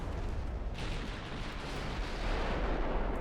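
Heavy naval guns boom in a warship battle in Ultimate Admiral Dreadnoughts, including an 11-inch gun, as a dense, rumbling barrage of low blasts rolls on continuously with no voices.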